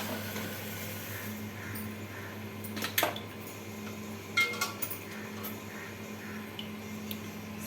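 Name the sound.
pressure cooker being set down on the stove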